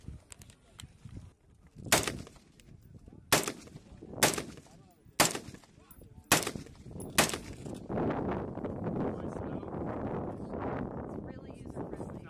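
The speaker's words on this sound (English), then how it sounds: "Gonna do a few shots standing up" Gunshots ring out at an outdoor firing range during a military training exercise: seven or so sharp, loud reports at irregular intervals, followed by steady wind and murmuring voices.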